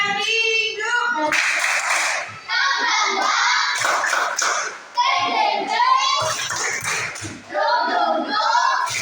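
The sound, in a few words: children clapping hands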